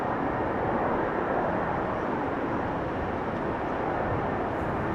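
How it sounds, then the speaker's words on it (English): Airliner deploying thrust reversers after landing at Amsterdam Schiphol, a steady loud broadband roar that holds evenly throughout, with no voices. "Will it use the reversers?"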